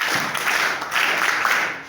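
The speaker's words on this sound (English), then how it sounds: "So let us clap for Madam Khadija to Bango." Applause from an audience gathered for Madam Khadija, a steady dense wash of clapping at moderate loudness with no clear talk over it.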